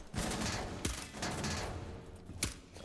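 SMG-11 submachine gun fire in the video game Rainbow Six Siege: rapid bursts of shots with a few sharp louder cracks standing out, loud and close, with no talking.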